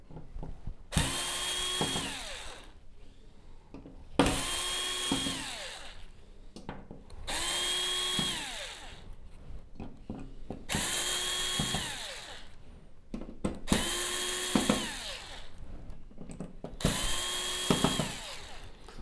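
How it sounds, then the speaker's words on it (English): A cordless drill fitted with a fine-tip number one crosshead bit backs tiny screws out of the rear panel of a Sony XBR-75X900F television, whirring in six bursts of about two seconds each, close and clear, separated by short pauses. "I do have a very fine tip number one screwdriver here on the end of my drill gun."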